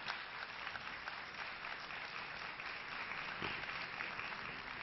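A large hall at the UN General Assembly fills with steady, distant applause welcoming the Prime Minister of India, a continuous dense wash of clapping heard without talk over it.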